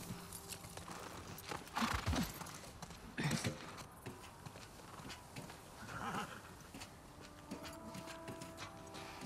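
A horse in The Last of Us Part II gives a couple of loud hoof thuds and a whinny in the game mix, among other softer clatters and ambient game sounds.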